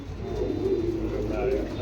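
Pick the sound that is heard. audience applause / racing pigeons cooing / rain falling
racing pigeons cooing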